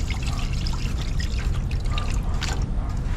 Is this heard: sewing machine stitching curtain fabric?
no